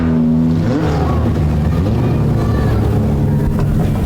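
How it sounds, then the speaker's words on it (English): Mini stock race cars at a dirt track heat race roar loudly and continuously, engines revving and shifting pitch as they pass close by, with faint crowd or announcer voices beneath. "As we'll see Rocco pull up next to Mr. Cozen down there as he's picked up his 2nd heat race win"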